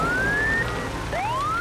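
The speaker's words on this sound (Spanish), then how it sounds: "Son Fiona, camión de bomberos y Dandy" A cartoon fire truck's siren wails in two rising sweeps, loud and near, with a brief dip between them and no voices over it.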